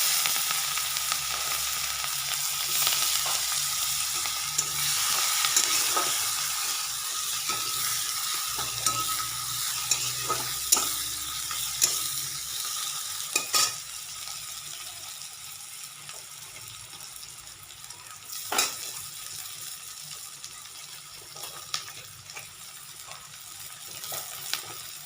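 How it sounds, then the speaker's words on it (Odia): Onions frying in hot oil, a continuous close sizzle with scattered pops and occasional clinks of a utensil against the pan, no talking. "ପିଆଜ ଭଜା ହେଇଛି।"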